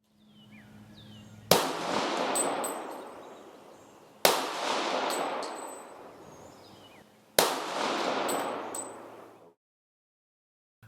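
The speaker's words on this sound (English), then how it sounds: "Okay, we're done shooting," Three loud, sharp gunshots from an adjustable-sighted 1911 handgun at target practice, spaced a few seconds apart, each with a long ringing decay and no talking.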